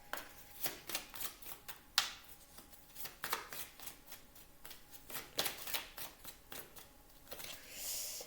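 Tarot cards are shuffled and drawn by hand, making a soft, close series of crisp flicks and riffling snaps in an irregular rhythm at low volume.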